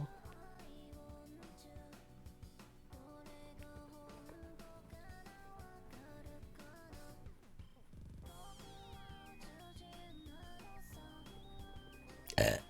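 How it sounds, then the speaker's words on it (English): A single short, loud human burp cuts in at the very end, over soft background music that plays throughout. "That was a tasty burp."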